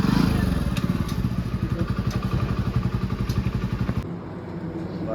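A motorcycle idles close by at a petrol stop on a group bike trip, its engine thumping in a fast steady pulse, then cutting out to quieter surroundings.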